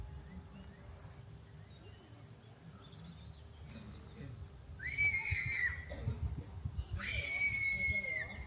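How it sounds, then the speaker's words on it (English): Children playing outdoors let out a couple of sharp, high screams toward the end, heard over a murmur of distant voices and background outdoor noise. "there were a couple of screams from children playing"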